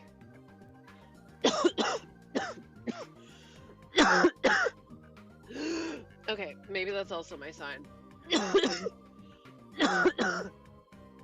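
A person coughs and clears their throat repeatedly in close bursts, with brief bits of speech in between.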